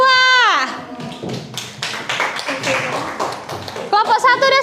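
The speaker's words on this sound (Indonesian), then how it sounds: "Kasih tepuk tangan dulu untuk kelompok" A classroom of schoolchildren claps for a group, a dense burst of applause with taps and thumps, framed by a voice speaking at the start and end.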